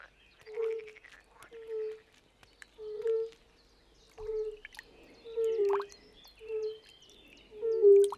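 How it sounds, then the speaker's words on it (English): European fire-bellied toads call from a shallow pond, soft hollow low notes repeating at a slow steady pace, about one per second, clear and moderately close over quiet surroundings. "European fire-bellied toads. The scarce amphibians love particularly shallow water."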